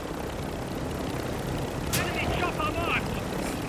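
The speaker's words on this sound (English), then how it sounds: "Helicopter inbound." Helicopter approaching in the DMZ video game, a steady low rotor drone under continuous broadband noise, with a sharp sudden crack and some brief tonal chirps partway through.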